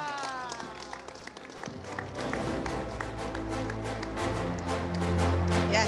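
An audience applauds at a coffee festival event, the clapping building from scattered claps into a dense, steady round that grows louder. Background music runs beneath it.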